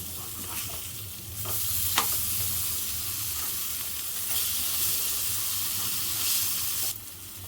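Surmai fish fries in a pan with a steady, loud oily sizzle and hiss heard up close. Occasional louder crackles and stirring noises rise over the sizzle, and no one speaks.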